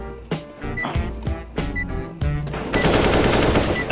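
Rapid gunfire from a Counter-Strike: Global Offensive match, with sharp shots arriving in clustered bursts before running into a sustained, dense volley near the end. The shots are loud and close.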